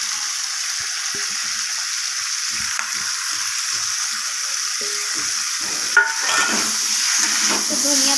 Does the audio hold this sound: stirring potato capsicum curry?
yes